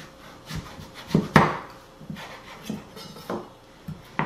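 A knife cuts through a raw butternut squash on a cutting board, giving a series of soft, close scraping and thudding strokes at an uneven pace, with one sharper knock in the middle.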